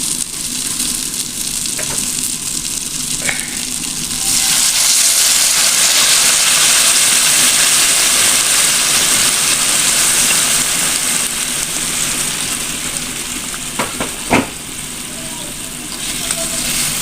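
Hot water poured onto spiced yam and potato frying in a pan hits with a loud, steady sizzle and hiss that swells and holds, with a few faint clinks of a utensil near the end.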